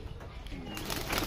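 Pet pigeons kept at a home coo softly in a low, faint murmur, with a brief flutter of activity and some background rustle near the end.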